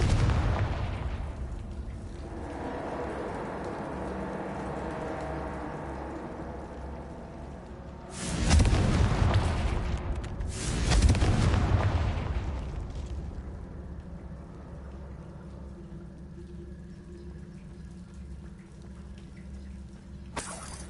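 Confringo blasting spells explode in the Hogwarts Legacy video game: two loud, booming blasts a few seconds apart rise over a steady rumbling ambience, each decaying into a rolling tail.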